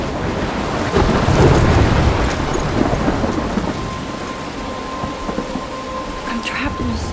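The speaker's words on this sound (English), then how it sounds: "I'm trapped in a storm?" Heavy rain pours steadily through a thunderstorm in Life is Strange, with rumbling thunder swelling early on and a continuous wash of rainfall on surfaces; no one speaks.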